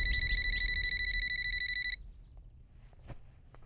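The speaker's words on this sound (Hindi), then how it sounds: "अरे फोन इतनी देर से बज रहा है, उठाते क्यों नहीं?" A phone rings with a bright, repeating electronic trill for about two seconds and then cuts off, leaving a quiet room with faint movement.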